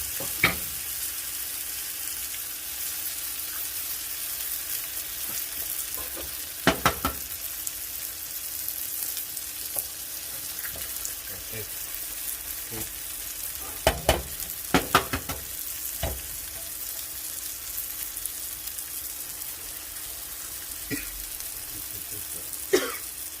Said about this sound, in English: You'll fry this for a little bit, cook it for a little bit.